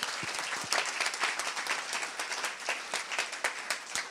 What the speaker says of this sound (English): Please give a round of applause to yourself.